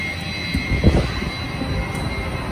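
A steady mechanical drone with a constant high whine from large blowers fills the blower building of a wastewater treatment plant, loud and continuous with no talk.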